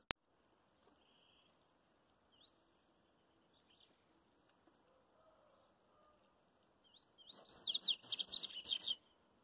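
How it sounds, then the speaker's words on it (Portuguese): A papa-capim (capped seedeater) songbird at a singing tournament gives faint scattered chirps, then bursts into a louder, rapid twittering song phrase near the end, heard fairly close with no talk. "Esse passarinho canta demais no torneio"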